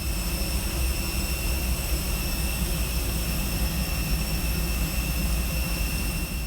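An airplane's jet engines roar steadily during takeoff, a loud, constant broadband rumble with a high whine on top and no voices.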